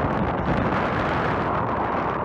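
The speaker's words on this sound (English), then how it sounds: "I left the sound up on the clip just so you can get an idea of how windy it was" Strong wind buffeting the microphone on the summit of Mt Eklutna, a loud continuous roar and rumble with no letup.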